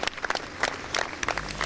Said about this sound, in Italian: parte l'applauso commosso di tanta gente che è assiepata